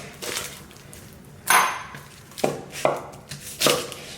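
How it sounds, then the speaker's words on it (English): A knife chops through half an onion on a cutting board, five sharp, distinct strikes at uneven intervals, close and clear with no voices. "Next, I'm gonna chop half of onion, same weight."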